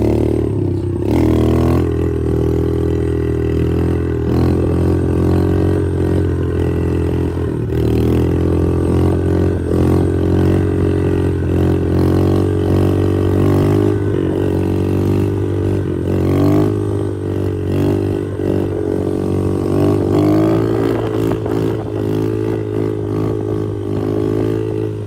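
A Kawasaki KLX 110 dirt bike with a newly fitted semi-auto clutch, its small engine droning loud and close in second gear, holding a steady pitch with slight rises and dips throughout.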